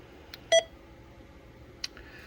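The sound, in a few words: beep from Anytone AT-6666 CB radio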